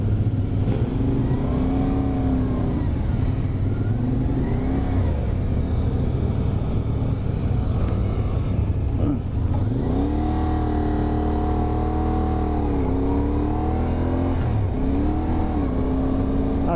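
A 2023 CFMoto 450SS motorcycle engine revs and accelerates while being ridden, its pitch rising and falling through gear changes, loud and close throughout with no voices.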